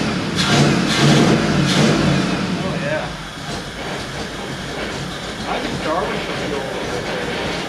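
A 1970 Ford F250 dually truck engine runs close by with a rough mid-pitched rumble, louder at first then settling into a steadier idle as a person speaks over it.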